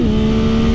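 A 2022 Yamaha MT-09 SP motorcycle accelerating in first gear around a corner, its engine note a loud, steady, close drone over a brief moment.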